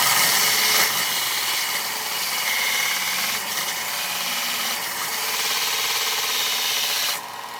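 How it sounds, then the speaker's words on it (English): Steady abrasive hiss of a belt sander flattening the metal surface of a turbo pipe for a 1500 hp Nova turbo kit, close and continuous, with a brief lift-off near the end. "sand this surface flat now."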